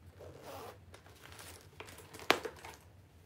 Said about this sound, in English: All right, I'm gonna zip it up and shake it.